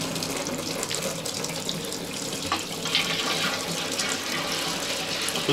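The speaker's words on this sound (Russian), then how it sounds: "Вот таким вот образом мы сейчас спускаем воду." Water drains away with a steady, loud rushing and gurgling that carries on without pause, close by in a domestic setting.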